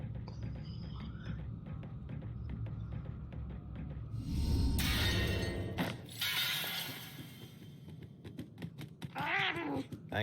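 A cat meows in the video game Murdered: Soul Suspect over a dense, eerie ambient backdrop, with a sudden glass-like crash in the middle and a clear, drawn-out meow near the end.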